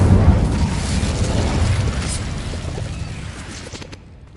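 Explosion spells such as Confringo and Bombarda going off in Hogwarts Legacy, a loud rumbling boom at the start that rolls on and slowly fades over four seconds, with no voices.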